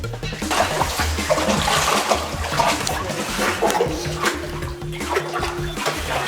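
Hikers' feet slosh and splash through cold water in a dark slot canyon, a continuous churning splashing close by with faint background movement.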